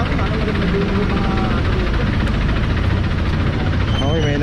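A parked car's engine idles steadily and close during a street clamping operation, a constant low rumble with people talking over it throughout.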